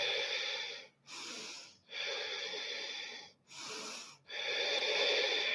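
Deep, steady breaths during a yoga session, each long breath broken by brief pauses, close and clear with no talk.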